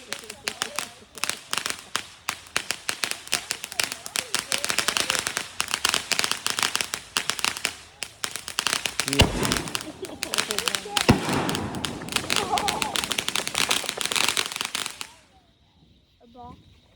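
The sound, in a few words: pallet of fireworks going off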